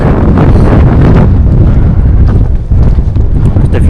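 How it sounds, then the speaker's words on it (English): Strong wind roars across the microphone on an exposed fell summit in the Lake District near Pavey Ark, a loud, steady buffeting rush that fills the whole stretch with no other sounds standing out. "The wind's picked up a bit, but it's probably because of the elevation."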